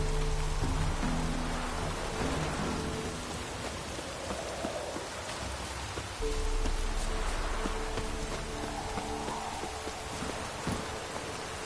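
Steady rain falls in The Witcher 3: Wild Hunt, a continuous hiss of drops on surfaces that runs the whole time beneath low music tones.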